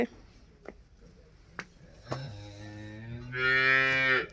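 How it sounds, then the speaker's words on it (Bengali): Cattle on a village farm low and moo, a long rising call building to a loud, harmonic bellow, preceded by a few faint clicks and light handling sounds. "এটার মধ্যেও আরো গরু আছে"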